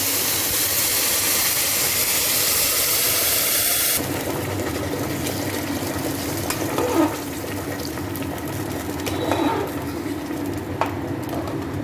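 Water is poured into a pressure cooker over fried rice for Vasanti polao. A loud rushing splash lasts about four seconds, then drops to a quieter simmering hiss with occasional small clinks.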